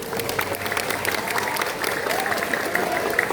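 Students and staff at an Islamic senior high school gathering in Bantul applaud in a steady, moderately loud wash of clapping from a crowd that lasts throughout.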